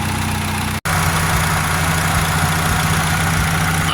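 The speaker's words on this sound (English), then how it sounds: "Okay, so you see it's idling." Idling Honda Civic EJ1 with a D16Z6 engine and a newly replaced turbo, a loud steady engine drone with a brief dropout near the start, then an even, continuous idle hum close by.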